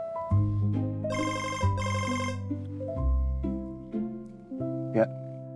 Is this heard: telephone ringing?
yes